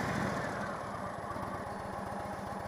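An Indian Chieftain motorcycle engine idling with a low, steady, pulsing rumble, quite faint and close, with even rhythmic firing beats throughout.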